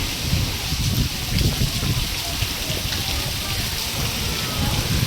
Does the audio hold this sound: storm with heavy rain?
yes